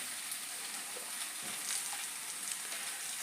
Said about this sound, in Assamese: এনেদৰে কিছু সময় ভাজি লোৱাৰ পিছত নিমখ দি দিব